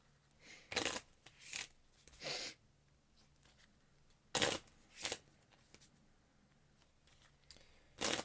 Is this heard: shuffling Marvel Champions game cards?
yes